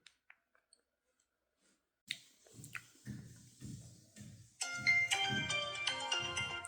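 An incoming-call ringtone from a phone sounds as a bright, repeating electronic melody. It comes after a few soft clicks and some quiet speech-like murmur, plays fairly loud and close, and keeps going to the end.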